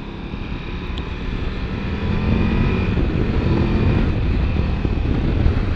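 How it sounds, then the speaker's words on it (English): A Triumph Tiger motorcycle engine droning loudly and steadily, its pitch and intensity rising as the revs climb, with a faint whistle-like whine riding on top. "Triumph traditional whistle type noise as the revs increase"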